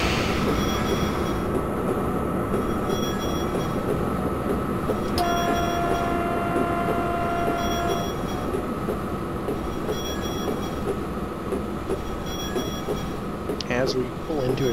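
A video game train rolls along with steady rumbling and clanking, a high squeal rising briefly midway and another near the end as it slows into a station.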